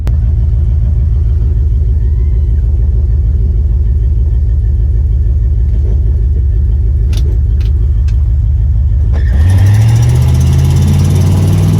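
A 1968 Ford Mustang Fastback's engine rumbles at a steady idle at a drag race, then revs sharply near the end, climbing into a loud, rising roar.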